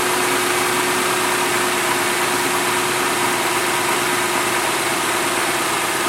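A Toyota 2UZ-FE V8 idles steadily just after a timing belt change, a smooth continuous engine hum with a low tone and no knocks or irregular noises, close and alone throughout.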